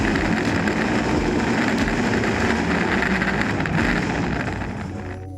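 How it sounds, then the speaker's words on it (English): Brad Keselowski's 2011 Penske Dodge Charger NASCAR stock car roars through its side exit exhaust, a loud dense rumble held steady before easing off at the end. "You do have that signature NASCAR side exit exhaust, which sounds fantastic"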